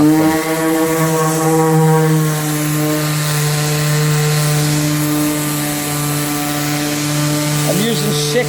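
Battery-powered sander with 60 grit paper running steadily with a droning, tonal whine held for the whole stretch, close and fairly loud, with a brief spoken word near the end.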